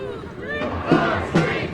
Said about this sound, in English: It's a very large crowd.